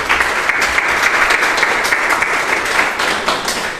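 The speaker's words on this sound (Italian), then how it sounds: "Un applauso, grazie." Loud, steady applause from an audience at an Italian association event on legality, a dense, continuous wash of many hands clapping close by.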